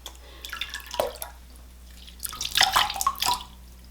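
Lemon-juice-dyed yarn being washed in water, close splashing and dripping in two short bursts of wet sloshing over a low steady hum, with no talking.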